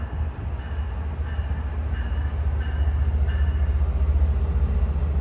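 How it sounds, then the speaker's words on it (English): A train rumbles in toward a platform on the Northeast Corridor at Route 128 station, Massachusetts, a deep steady roar swelling slightly louder, with faint metallic tones above it and no voices. "Train approaching, please remain behind the yellow line."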